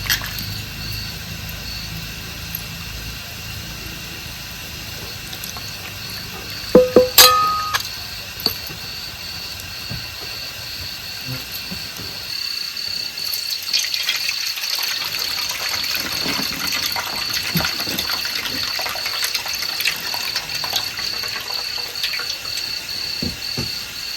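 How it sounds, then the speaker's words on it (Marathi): Water swishes and splashes in a basin as dried fish is rinsed by hand, with a few sharp metallic clinks early on, then steadier running water. "दोन पाण्याने आपल्याला ही सुकट धुवून घ्यायची"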